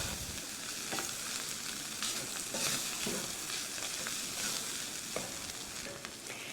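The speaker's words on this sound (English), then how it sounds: "we're gonna add in our beef broth and our wine if you're using wine. And that will help deglaze the bottom of this pan" Beef broth and wine poured into a hot pan with flour-coated browned bits, a steady sizzling hiss broken by repeated scraping and stirring clicks of a utensil against the pan bottom, close up.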